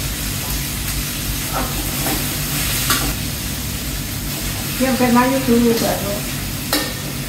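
Tongseng is stirred in a frying pan for Eid al-Adha cooking, a steady close sizzle with scraping spatula strokes running throughout and a brief squeak near the end.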